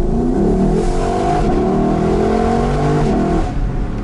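A Lexus LC 500 convertible's engine revs loudly and close by, a steady throaty roar with rising and falling harmonic tones that holds for about four seconds before easing slightly near the end.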